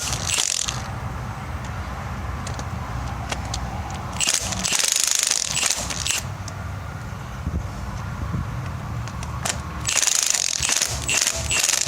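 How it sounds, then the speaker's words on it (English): A ratchet loosens rocker arm bolts on the cylinder head of a Corvette with a tuned port injection engine, with close, repeated clicking bursts separated by short pauses and no talk. "8 more rocker arm bolts. So I'm gonna go ahead and loosen these up."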